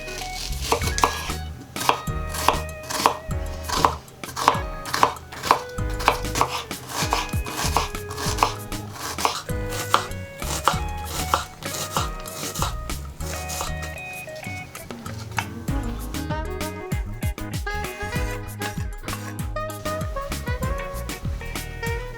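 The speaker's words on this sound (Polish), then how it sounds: "Dwie małe czerwone cebule lub jedną większą kroimy w kostkę." Red onions diced with a knife on a cutting board, a steady run of sharp, rhythmic chops close up that quicken into rapid tapping toward the end, with no talking.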